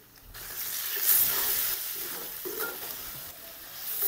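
Chicken pieces frying with browned onion, garlic and ginger for a chicken macaroni dish, giving a steady close sizzle with stirring scrapes that swell and ease throughout.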